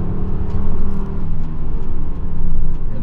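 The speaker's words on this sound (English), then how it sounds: "sounds great though. The five cylinders are just awesome." A Volvo V70R wagon's turbocharged five-cylinder engine drives along a street, a loud, steady, close growl that swells and dips slightly with throttle, alone without talk.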